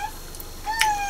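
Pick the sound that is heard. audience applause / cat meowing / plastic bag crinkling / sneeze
cat meowing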